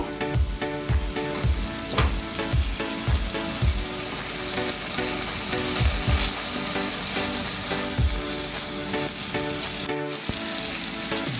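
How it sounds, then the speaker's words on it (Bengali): Taro stolons and shrimp sauté over a high flame: a loud, steady sizzle and crackle with regular spatula scrapes against the pan, heard close-up without any talking. "হাই ফ্লেমে কিছুক্ষণ কষিয়ে নেব।"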